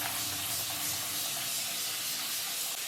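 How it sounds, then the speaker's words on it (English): A spray bottle mists water onto hair in a continuous fine hiss, steady and close for about three seconds without pauses. "This is the first time I'm using this spray bottle."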